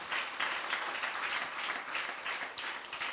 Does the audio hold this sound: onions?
no